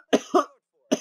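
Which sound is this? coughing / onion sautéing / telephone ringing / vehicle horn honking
coughing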